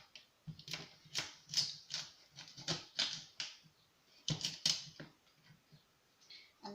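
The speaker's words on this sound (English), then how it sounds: "it's quite thick, so we'll cut in half again" A knife chopping chicken into pieces on a board for chicken chow mein, a series of sharp, close, irregular cuts in quick bursts with short pauses.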